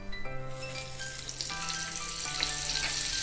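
Refined oil and butter sizzle on a hot tava griddle at the start of a street-style pav bhaji, a steady close frying hiss with faint clinks, no voices.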